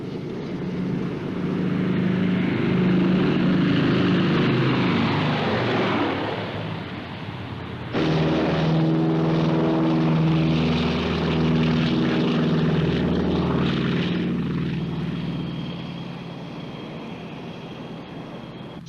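A propeller aircraft taking off, its engine droning loudly at first, then surging into a stronger, steady roar with a throbbing beat as it runs up and climbs before slowly fading.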